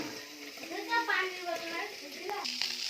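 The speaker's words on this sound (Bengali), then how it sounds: "পুঁটি মাছ ভেজে রাখছি, যে ভাজতেছি" Puti fish fry in a pan in a home kitchen, a soft hiss and crackle of oil running under close, continuous talking, with a few brief clinks near the end.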